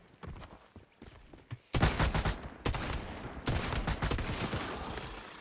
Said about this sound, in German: ich schieße einfach mal in den toten Körper rein